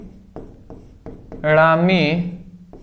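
Chalk or a marker strikes a board in a Class 12 physics lesson with several distinct taps and scratches spaced across the clip, and a voice briefly speaks in the middle.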